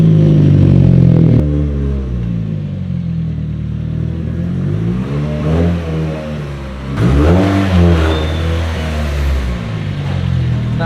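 A fully built Nissan SR20-powered car revs hard on a dyno, its loud engine note climbing and dropping through several pulls with strong, rumbling low harmonics throughout.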